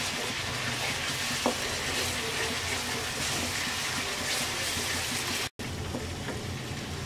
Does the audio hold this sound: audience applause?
no